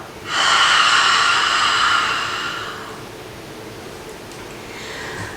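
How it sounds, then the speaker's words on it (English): A long ujjayi yoga exhale made with an open mouth, like fogging a window: a breathy, hissing whoosh that lasts about two seconds, close up. A fainter breath follows near the end. "exhale, imagine you're fogging a window. So you kind of hear that sound it makes"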